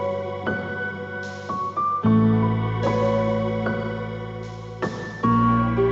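Ending theme from the video game Revita: sustained melodic synth and piano-like notes over a deep bass drone, with new chords entering every second or so, music alone without speech.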